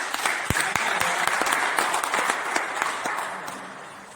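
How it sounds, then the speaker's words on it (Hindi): Listeners at a monthly Hindi poetry gathering and award ceremony break into applause, a few sharp nearby claps standing out from a steady crowd clapping that slowly fades. "उनके लिए ताली।"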